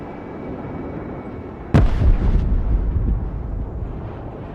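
An airstrike in the video game Broken Arrow lands as one sudden heavy explosion, followed by a deep rumbling roar that lingers and slowly fades.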